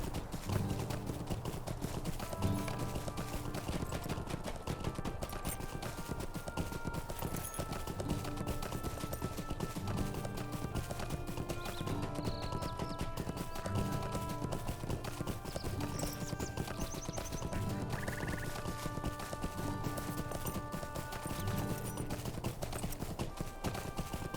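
Horse hooves clip-clop steadily while riding in the game LOTRO, an even trotting rhythm over game music with bell-like tones, and an occasional whinny, continuing for over twenty seconds.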